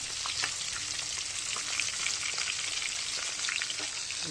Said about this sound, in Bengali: ডালের সম্বার দেবো